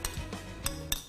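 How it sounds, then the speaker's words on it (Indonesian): A spoon clinks against a bowl while stirring a garnish of low-fat yogurt and chili sauce, with three or four sharp metallic taps close by and no talking. "dan kita campur atau aduk rata."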